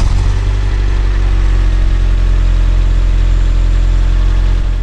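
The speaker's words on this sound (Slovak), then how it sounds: "je vzadu výfuk, s ktorým nie som veľmi spokojný, pravdu povediac" Toyota MR2 AW11 exhaust note, a steady loud idle with a deep, even low rumble held close to the microphone throughout, no voices over it.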